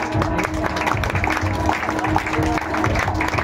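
A crowd at a school student felicitation ceremony claps loudly and continuously, with dense, even applause filling the whole stretch.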